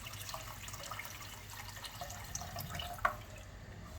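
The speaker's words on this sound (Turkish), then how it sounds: "Şimdi artık suyumuzu ilave edebiliriz." Water is poured into a soup pot of cut-dough noodle soup, giving a steady, quiet trickle and splash, with one slightly louder splash near the end and no talking.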